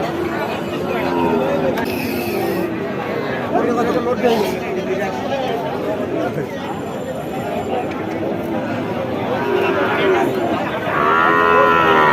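Cattle and small calves low and moo amid a busy livestock market, the calls rising over steady crowd chatter and nearby talk throughout.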